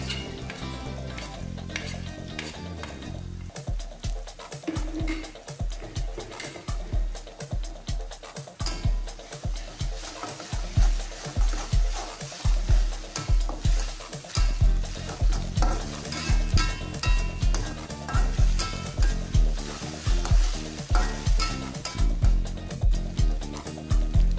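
Red chili paste sizzles with chicken pieces in a hot pan, a steady frying hiss broken by repeated rhythmic scrapes and knocks of a spatula stirring, close and loud.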